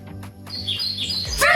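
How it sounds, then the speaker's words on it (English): Birds chirp in a quick series of short, high tweets over a low steady backing beat, played as a sound to guess in a game. "Birds chirping, birds chirping"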